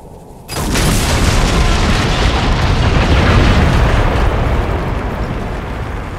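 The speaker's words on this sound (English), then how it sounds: "Let's go explode some Gatlock." A huge explosion bursts in Dragon Age: Inquisition as gaatlok explosives blow up a lyrium mine, a sudden loud boom that rolls into a long, heavy rumble and slowly fades.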